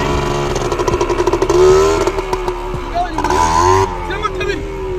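A motorcycle engine running and revving close by during a riding lesson, its note rising and falling with throttle, while people talk over it throughout.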